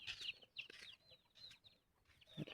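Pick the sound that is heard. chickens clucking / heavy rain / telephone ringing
chickens clucking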